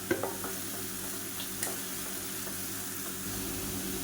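Mint and coriander paste sautés in hot oil, giving a steady, soft sizzle with a few light scrapes of stirring. It stays fairly quiet and continuous throughout, with no talking.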